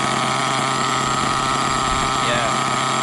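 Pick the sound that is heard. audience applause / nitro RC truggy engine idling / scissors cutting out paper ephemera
nitro RC truggy engine idling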